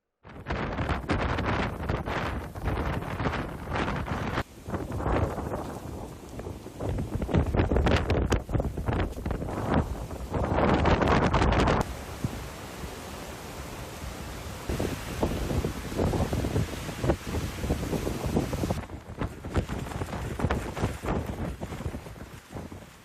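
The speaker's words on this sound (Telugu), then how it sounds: "కుంభవృష్టికి తోడు బలమైన ఈదురుగాలులు వీస్తుండటంతో వీధులన్నీ నిర్మానుష్యంగా మారాయి" Strong typhoon winds lash Taiwan during heavy rain, a loud, continuous roar of buffeting gusts that surge and ease across the whole stretch, with no voices.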